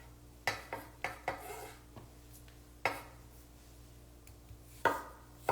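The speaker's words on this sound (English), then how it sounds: "Chopping up some tomatoes on Clubhouse" A knife chops tomatoes on a board in a home kitchen: about eight sharp, irregular cuts, close and clear, with quiet pauses between.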